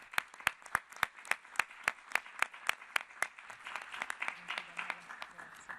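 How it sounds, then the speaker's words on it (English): Audience applause for panelists at a United Nations disability session, starting with a few loud, evenly spaced claps that grow into fuller, quicker clapping from the room. "An applause."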